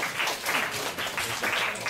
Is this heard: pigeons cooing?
no